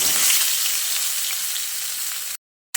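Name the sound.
pointed gourd pieces frying in hot mustard oil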